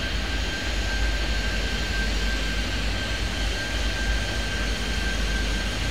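A jet airliner taking off in the video game Airport Madness 3D, a loud, constant engine roar with a thin high whine running straight through, with no change in level.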